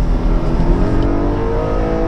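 Porsche Cayman 718 GTS, a 2020 car with a mid-mounted 4.0-litre engine, revs hard on a race track, giving a loud, steady engine roar that carries through the whole stretch with no pauses.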